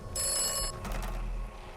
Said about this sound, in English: He's ringing me again.